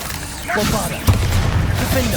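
Bombarda explosion spell going off in Hogwarts Legacy, a loud booming blast with crashing impact mid-clip after a short spoken voice, followed by rumbling debris.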